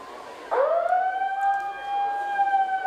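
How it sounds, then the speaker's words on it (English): A siren sounds loudly to mark the end of a Heartland XV rugby match, a steady rising-then-held wail that starts abruptly and carries on over faint crowd background. "There goes the siren for the end of the game as Ashby gets the ball and gets the try."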